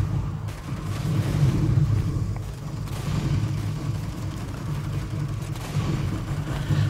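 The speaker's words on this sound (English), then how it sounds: "Throw a grenade." Mobile shooter The Fifth Ark in play, a dense low rumble of explosions and gunfire from a thrown grenade and combat effects, sustained and loud with thuds and booms layered over continuous battle noise.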